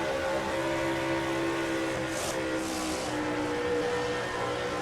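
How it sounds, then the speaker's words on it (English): Race trucks roar past on the Charlotte oval during a Hunt Brothers Pizza Truck Series race, including the black and white number 29 Mopar truck, a steady loud engine drone with a brief swelling pass-by whoosh midway. "Johnny Gardner goes by in the number 29 truck, the black and white Mopar machine."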